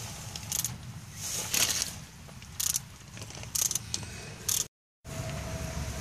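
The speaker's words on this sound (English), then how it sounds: "I'm using a deep dish socket which fits just barely fits in there with a ratchet" A ratchet with a deep socket loosens an oil pan bolt under a 2001 Volkswagen Jetta, giving short bursts of clicking separated by pauses, close and fairly loud over a low background hum, with a brief dropout near the end.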